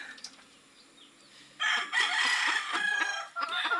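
Kelso gamefowl rooster crowing on an open-air backyard breeding farm, one loud, close crow after a quieter stretch of faint clucking and farm noise.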